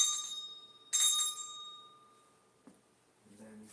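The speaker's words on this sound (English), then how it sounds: "You ring the bell 3 times." A handheld bell rung by hand during a ritual to make a house haunted, giving two or three bright strikes that ring out and fade into quiet, with a faint soft knock near the end.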